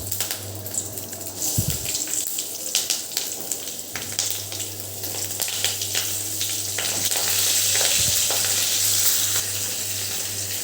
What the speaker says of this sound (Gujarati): તેલ પણ આપણું ગરમ થઈ ગયું છે તો એની અંદર હવે આ મરચાં આપણે એડ કરી દઈશું